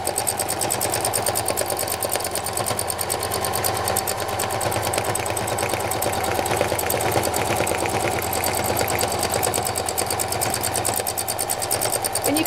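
Sewing machine stitching solid purple thread onto a painted clutch bag, a steady fast mechanical whir with rapid needle ticking that runs continuously and evenly, close and fairly loud.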